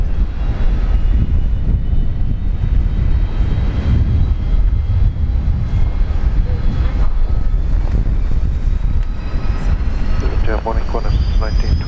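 Qantas airliner taking off from Brisbane Airport runway 19 left, a loud continuous engine roar with wind buffeting, heard at a distance outdoors, with a radio voice faintly underneath.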